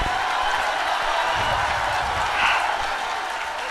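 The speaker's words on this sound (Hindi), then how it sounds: "कोई रोक नहीं पाएगा ताली से" A seated audience claps for Imran Pratapgarhi's poetry recital, a steady, even crackle of many hands that swells slightly midway, with no words over it.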